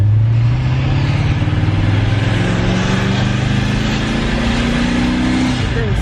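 A 1000+ hp Corvette Z06 engine roars steadily and loudly from inside the car, a deep continuous drone with a slowly rising pitch throughout.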